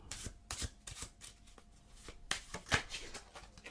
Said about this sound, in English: Get them to give the deck a good shuffle.